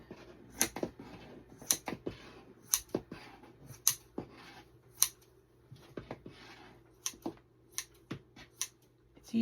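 Scissors cut through quilt batting in a series of about a dozen crisp, close snips, spaced unevenly with short pauses between them.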